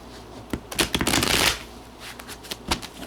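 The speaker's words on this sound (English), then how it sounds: "I'll just do a couple more shuffles" Crisp riffling bursts of tarot cards being shuffled, a couple of quick flurries with short pauses between, close and clear with no talking.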